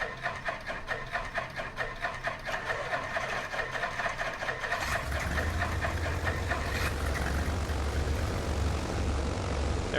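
In the MSFS flight simulator, the twin piston engines of the Black Box Simulations Islander turn over with a rhythmic starter whine, then catch and settle into a loud, steady propeller drone.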